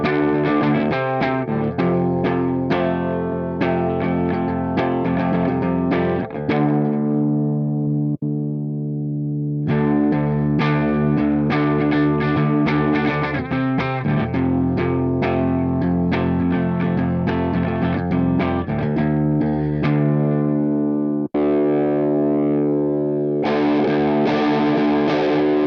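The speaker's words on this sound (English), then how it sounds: "let's switch in the back of the amp and have a listen to the sounds of the preamp" Electric guitar played through a BOSS GT-3 multi-effects preamp: loud, sustained distorted chords and riffs with chorus-like shimmer, a few brief pauses between phrases, no talking.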